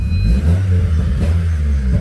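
A Honda Accord with its exhaust opened revs up close by, producing a deep, sustained rumbling roar with a slight clattery edge that holds loud and steady throughout the short stretch.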